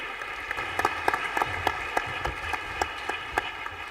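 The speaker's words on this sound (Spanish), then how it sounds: "Un caluroso aplauso para Bernard Cortijo Fernández." Audience applause at a cybersecurity panel of an international congress, distinct claps rising out of a steady background hum, moderately distant and continuing evenly throughout.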